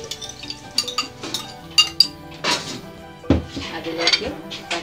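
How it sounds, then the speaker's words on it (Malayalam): Small anchovies (netholi) go into a clay cooking pot with scattered close clinks, taps and scrapes of a spoon against the earthenware. "ഇനി മീനെല്ലാം ചട്ടിയിലിട്ട്"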